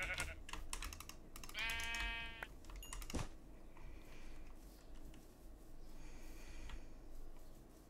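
A sheep bleating in a video game, one clear wavering bleat near the middle, surrounded by rapid computer keyboard typing and clicks.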